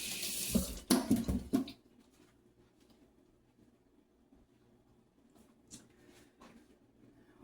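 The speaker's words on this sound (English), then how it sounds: "Let me rinse my hands off." Hands are rinsed under a running kitchen tap: a loud splashing gush of water lasts under two seconds, then stops, leaving a quiet room with a few faint knocks.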